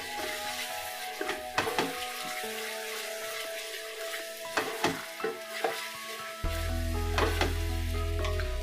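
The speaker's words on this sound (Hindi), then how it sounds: "मिला लेंगे इसे अच्छे से" Powdered spices being stirred into chicken rara frying in a pan, with a steady sizzle broken by repeated clanks and scrapes of a spoon, then a loud low hum joining near the end.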